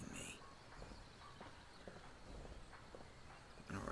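Soft clip-clop of horse hooves trailing the player in the video game Skyrim, faint and steady under a low ambient game background.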